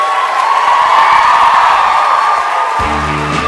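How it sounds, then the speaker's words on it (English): Comic convention crowd at MCM London Comic Con applauds and cheers loudly and continuously, with whoops and shouts throughout, then a deeper hum joins near the end. "Keep those round of applause going."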